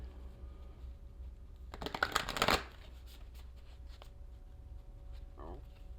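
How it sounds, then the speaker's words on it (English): Tarot cards being shuffled by hand, a dense burst of riffling flicks close by that swells and then stops, followed by quiet room tone and a couple of small taps. "while I'm shuffling this and picking a card"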